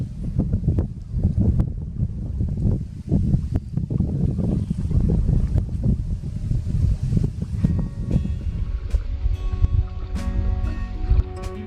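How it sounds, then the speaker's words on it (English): South wind blowing across Celina Lake, buffeting the microphone in heavy low rumbles and gusts, with water lapping against a boat nearby and a few sharp knocks toward the end, no talking. "that wind right now is blowing from the south"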